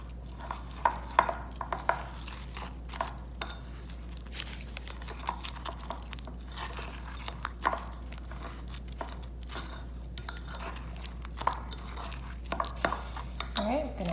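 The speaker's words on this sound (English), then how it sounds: "Work that in because you're trying to create a nice little dough." Coconut cookie dough, an alkaline sea-salt chocolate-chip style mix, is worked in a bowl with soft, irregular scraping and tapping of a utensil against the dish, faint and close over a low steady hum.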